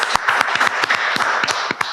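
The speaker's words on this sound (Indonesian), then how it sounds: "Kita kasih tepuk tangan untuk Mentari dulu." Close, lively hand clapping from a small group for a guest named Mentari, quick irregular claps over two seconds.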